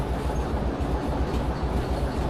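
A long freight train rolling along the tracks in the Derail Valley video game, a loud steady low rumble with rhythmic wheel thumps and no voices.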